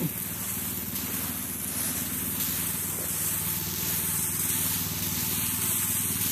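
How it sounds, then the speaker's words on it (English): A pressure washer sprays concrete, a steady hissing spray of water running continuously close by, with a low mechanical hum underneath and no break in the sound. "And he's going to spray the concrete."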